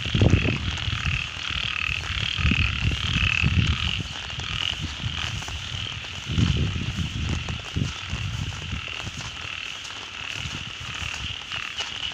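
Frogs and toads croak in a loud, dense chorus across a rice field in Thailand during evening rain. Overlapping calls pulse continuously and rise in bursts throughout, with no voices present.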